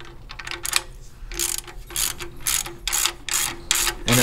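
A ratchet drives in a bolt on a press piece for engine valve keepers on a junk derby engine, producing loud, close bursts of rapid clicking in a steady back-and-forth rhythm, with no speech.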